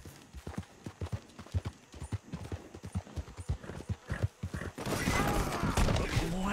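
Rhythmic clip-clop of horse hooves trotting at a steady pace in a video game, then a louder rushing noise takes over near the end.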